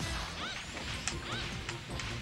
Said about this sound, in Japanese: 窓ガラスぶっ壊してくれんじゃね